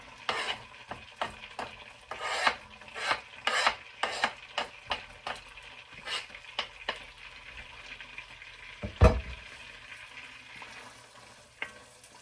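Onions fry in a pan with a steady sizzle, while a utensil scrapes and stirs them in a series of brisk, rhythmic strokes. One louder clunk sounds near the end.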